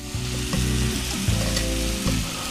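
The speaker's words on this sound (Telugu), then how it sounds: "సో ఇది ఫ్రై చేసుకున్నా అంటే ఒక 2 minutes ఫ్రై చేసుకోవాలి సాల్ట్ యాడ్ చేశాక" Chicken frying with salt in a pan for Andhra kodi vepudu, a loud continuous sizzle with stirring scrapes, close and unbroken, with no voices.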